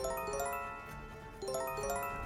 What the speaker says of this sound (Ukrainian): А от звуки на ТБ чи телефонах можуть бути досить спокійні, навіть приємні.